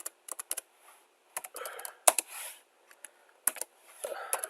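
Code is typed on a computer keyboard in quick, irregular bursts of close, crisp key clicks separated by short pauses, with no voices.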